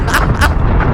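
Loud explosive booms from bombs dropped by a B-52 bomber built in Minecraft with the Create mod, two heavy blasts with rumbling tails in quick succession, filling the whole second.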